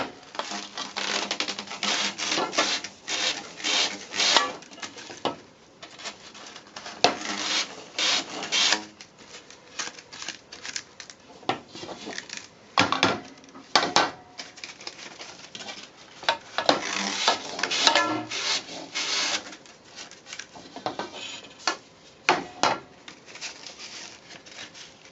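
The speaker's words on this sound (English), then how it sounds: "We're now going to abrade them with some sandpaper to get the surface ready for gluing." Sandpaper abrades the surface of Gardiner Smart Clamp parts before gluing, producing close, repeated short rasping strokes in an irregular rhythm, with brief pauses between bursts.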